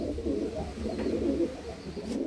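An Iranian pigeon coos in low, rolling murmurs repeated steadily, close and fairly loud, with no voices.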